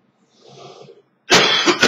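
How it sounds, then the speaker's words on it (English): A man with a cold gives one sharp, loud cough at close range after a brief, faint breathy rasp. "I was already starting to cough, so sorry about that."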